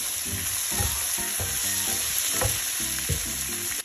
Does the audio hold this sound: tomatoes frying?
yes